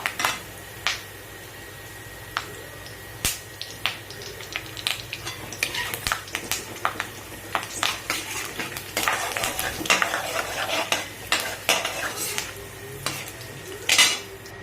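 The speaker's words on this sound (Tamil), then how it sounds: "கடுகு கொஞ்சம் பொரிஞ்சிருச்சு." Mustard seeds, chana dal and curry leaves crackle in hot oil, with sharp scattered pops and clicks of a metal spoon against the pan building toward the end, close and unaccompanied by talk.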